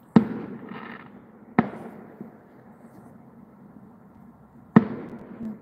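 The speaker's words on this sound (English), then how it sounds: "we're watching the fireworks." Fireworks bursting outdoors: three sharp loud bangs spaced a second or more apart, each with a rumbling tail, plus a fainter crackle between them and no talking.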